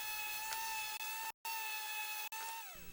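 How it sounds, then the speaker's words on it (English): A wooden mallet is sanded with a power tool at the final grit, sped up, giving a steady high whine with brief dropouts and a falling pitch at the end. "I sanded the mallet through all the grits"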